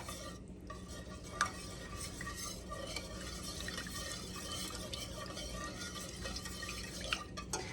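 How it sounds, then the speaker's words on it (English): Ingredients for a from-scratch dinner being whisked together in a bowl, giving a soft, steady scraping swish that runs the whole time at low volume with a couple of sharper taps and no talking. "we are going to just give this a good whisking to combine it all"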